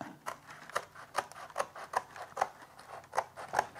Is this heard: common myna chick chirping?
no